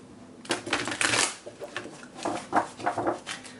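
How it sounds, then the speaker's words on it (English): Tarot cards shuffled by hand up close produce a few bursts of riffling and flicking, uneven and somewhat effortful, with brief pauses between them. "Now these cards are difficult for me to shuffle"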